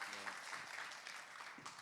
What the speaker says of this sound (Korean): 우리 축복하며 박수합시다